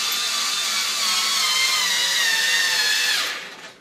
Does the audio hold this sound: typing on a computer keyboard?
no